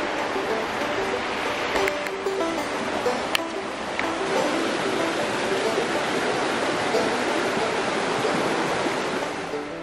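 Stream water flowing beneath shady trees near Barnard Castle, a constant, fairly loud broadband rush and gurgle that holds steady throughout, with a few faint higher ticks over the flow.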